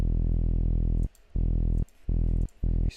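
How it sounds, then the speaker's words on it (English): A synthesized electric bass with drive adding distortion plays four sustained, buzzy notes in a row, each cut off by a brief gap, loud and alone with no talking. "let's give it some drive, which is automatically going to add a bit of distortion"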